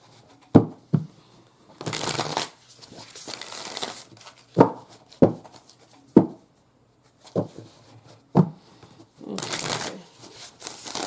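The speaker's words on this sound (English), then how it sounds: "let me just shuffle these a little more and get into the last of my oracles." Bursts of oracle cards being shuffled, riffled several times in quick succession, with short pauses and a brief spoken word between them.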